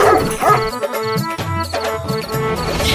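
Cartoon bulldog yelping and whimpering in quick bursts, loud and close, with choppy barks and whines tumbling over one another for about three seconds.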